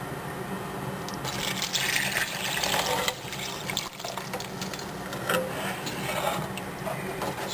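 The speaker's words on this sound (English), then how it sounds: "Now we're going to add some water in." Water pours into a pot of homemade bean soup with onion, a close, continuous splashing and filling sound with slight surges over several seconds.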